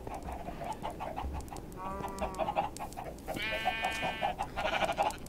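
Several short clucks and a drawn-out squawk from Minecraft chickens, moderately close, with a steady bed of background noise and no talking.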